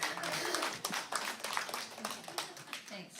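Church congregation at a Sunday service applauding and cheering for a song, a dense wash of clapping with scattered shouts and voices mixed in, steady and close throughout.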